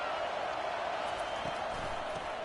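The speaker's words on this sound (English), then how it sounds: "This crowd bringing the energy and noise early." Steady stadium crowd roar from a Madden football video game, a dense continuous wash of noise at even loudness with faint scattered thumps and no clear talk.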